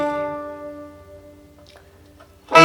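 Irish tenor banjo plucking a slow run of single notes, a short phrase of six notes ringing out with a bright attack and long decaying tones, played alone up close with a louder strum at the end.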